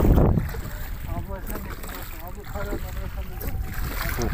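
A boat moves across Burabay lake in Kazakhstan, with steady wind and water noise buffeting the microphone throughout while people talk over it.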